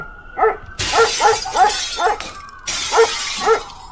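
A dog barks at night in a series of sharp, loud, close barks, about eight in a fairly even rhythm, over a bright hissing background.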